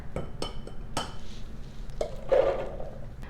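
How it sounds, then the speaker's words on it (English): Chickpeas clatter into a food processor bowl in a kitchen, a few sharp clinks and taps followed by a brief rattling pour. "let's put our chickpeas into our food processor"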